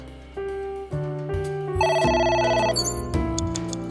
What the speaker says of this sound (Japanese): 電話だぞ、取るか。